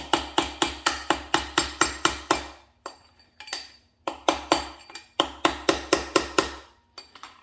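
A hammer taps metal parts of a Honda Prelude engine in quick, sharp metallic strikes, two bursts of about eight to ten evenly spaced hits each, close and ringing, with a few scattered taps between.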